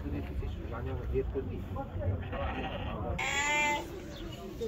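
Ewes bleating at a livestock market in Zharkent, with a drawn-out, wavering bleat rising near the end over continuous nearby human voices and market bustle.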